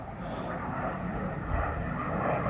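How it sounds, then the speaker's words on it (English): An airplane passes overhead as a steady broadband roar that swells slightly toward the end, continuous and fairly loud with no speech in the clip. "there's an airplane going over now"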